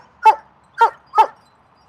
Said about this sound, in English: Who you barking at, big guy?